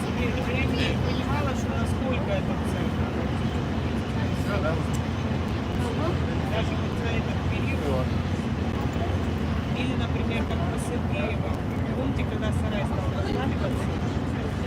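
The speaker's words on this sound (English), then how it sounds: "Can you hear the engines working?" Boat engines run steadily on a lake crossing to Kizhi Island on Lake Onega in Karelia, Russia, a continuous loud low rumble throughout, with people talking over it.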